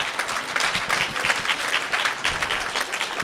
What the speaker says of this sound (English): Can we get one more round of applause for that?